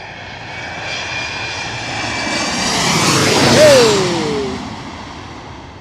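A fixed-wing airplane at LaGuardia Airport passes nearby, its loud engine roar swelling steadily to a peak and then fading slightly, with a brief whine sweeping downward as it goes by.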